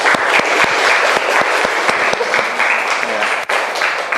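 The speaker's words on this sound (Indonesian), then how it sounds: "beri tepuk tangan ya" Applause from a classroom audience after a short-story reading at a teaching performance test, dense steady clapping filling the whole stretch at fairly close range, with faint voices mixed in.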